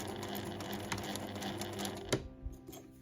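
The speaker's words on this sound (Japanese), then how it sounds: "そうしたら周囲を1センチで縫います。" A sewing machine stitches around the edge of a fabric drawstring pouch: a quiet, rapid mechanical whirring that runs for about two seconds and then stops, followed by a few faint clicks.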